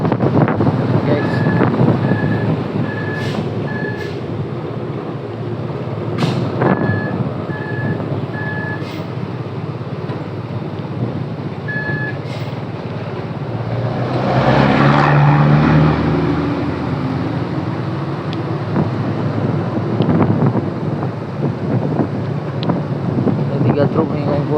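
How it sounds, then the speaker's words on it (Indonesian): A convoy of trucks hauling a bulldozer and excavator rumbles past near Geurutee in Aceh, with a steady engine drone, intermittent beeps, wind buffeting and a swelling roar midway, with voices faintly under it. "Truk nih konvoy depan tuh,"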